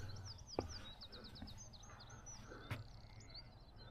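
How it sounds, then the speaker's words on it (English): Soft, distant birdsong of quick repeated chirps and trills over a quiet outdoor background by a reservoir and small stream, with a couple of faint knocks. "Birdsong sound lovely."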